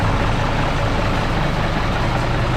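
A six-wheel dump truck's diesel engine idles steadily at a garage, a continuous low rumble with a dense, even texture and no voices over it.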